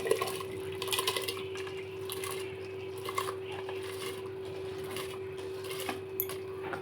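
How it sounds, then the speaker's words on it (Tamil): Steady bubbling and hissing of water at a rolling boil in a pot for mutton biryani, with a constant hum and a few faint clinks, continuous throughout. "தண்ணி கொதிச்சிடுச்சு பாருங்கள்."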